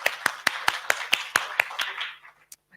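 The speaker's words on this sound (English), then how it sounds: "Round of applause for both our speakers." Applause for two speakers at a public budgeting and governance forum, heard as sharp, evenly spaced claps close to the microphone, about a dozen in a steady rhythm, fading out before one last late clap.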